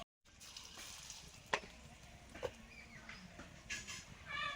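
Potatoes fry in oil with whole garam masala, cumin seeds and dried red chillies, giving a soft, steady sizzle broken by occasional pops and stirring clinks, fairly faint and close.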